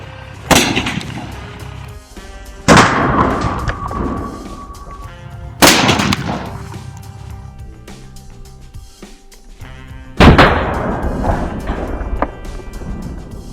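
A pair of small cannons fires at a target outdoors, four loud booming blasts spaced a few seconds apart, each trailing off in a rumbling echo, with no talk.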